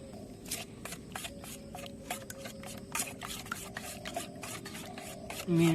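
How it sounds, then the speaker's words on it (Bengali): A chicken marinade with cumin, pepper, Kashmiri chili powder and eggs is mixed by hand in a bowl, giving close, repeated wet rubbing and squelching strokes in a steady rhythm. "ভালো করে মিক্সচার করে দিচ্ছি"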